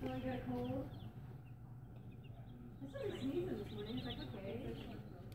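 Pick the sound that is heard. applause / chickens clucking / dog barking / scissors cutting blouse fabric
chickens clucking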